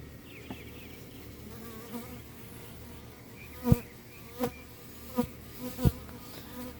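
Honey bees buzzing around an open Flow Hive during a full inspection, a steady close hum with a few louder knocks and clicks of equipment near the end.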